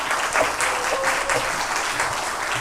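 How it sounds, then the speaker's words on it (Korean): Applause from a chapel audience at a university service welcoming a professor, a steady dense wash of many hands clapping that fills the whole stretch at even loudness. "박수로 환영하겠습니다"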